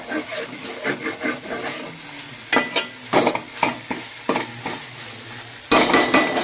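Mint and coriander fry for chicken biryani, crackling in a pan as a spoon scrapes and stirs repeatedly in quick, uneven bursts, with a louder scrape at the end and faint talk underneath.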